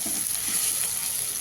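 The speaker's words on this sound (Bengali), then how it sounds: "এবার ভাজা ভাজা করবো আস্তে আস্তে করে" Saag greens, boiled soft, gently frying in oil in a pan, giving a continuous soft sizzle with faint stirring scrapes, close and fairly quiet, no talking.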